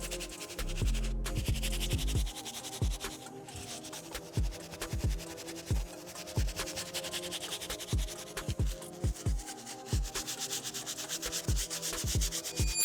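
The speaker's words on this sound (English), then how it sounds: "Now I'm gonna use our medium bristle brush, work on this midsoles, as well as take care of some of these deeper plastic areas around the back." A medium-bristle brush scrubs the plastic midsoles and deeper back areas of white mesh Nike Vomero sneakers, making close, steady rubbing strokes in a repeated rhythm that runs throughout with no talking.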